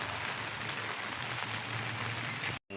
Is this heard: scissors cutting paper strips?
no